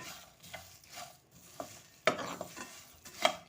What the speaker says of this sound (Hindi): आधा मिनट हम ऐसे ही इसे भूनेंगे